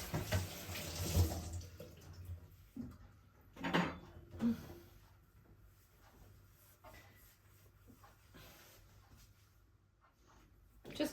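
Tap water runs into a kitchen sink while a dish with chocolate cream residue is washed, a soft steady splashing with brief louder bursts near the start and around four seconds, no talking.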